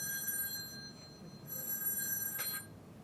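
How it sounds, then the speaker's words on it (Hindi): A telephone rings indoors in a staged domestic scene from a Hindi stage play, a single faint bell-like ring rising briefly over quiet room tone before the call is answered. "अरे नदू का फोन है क्या?"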